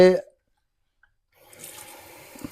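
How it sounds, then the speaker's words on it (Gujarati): Tap water runs into a drinking glass after a short silence, a steady close splashing stream that continues to the end, preceded by a brief voice. "આ પાણી હું ભરું છું ગ્લાસમાં."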